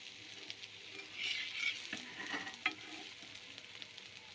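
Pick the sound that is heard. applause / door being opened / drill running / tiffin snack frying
tiffin snack frying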